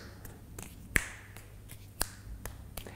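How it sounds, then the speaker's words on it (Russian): Sharp finger snaps, used in place of claps during a juggling exercise, a few crisp isolated clicks spaced about a second apart, two standing out louder, close and quiet with no speech. "Например, щелчок пальцами."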